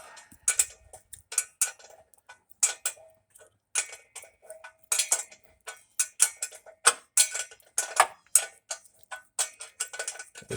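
Ratchet wrench turning bolts on the exhaust of a 1996-2000 Honda Civic DX, giving a steady run of close, crisp metallic clicks in short bursts with brief pauses and no talking.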